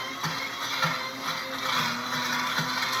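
A blender grinds homemade peanut butter, giving a steady, loud motor whir with a dense broadband roar that holds constant throughout, close by and with no voices.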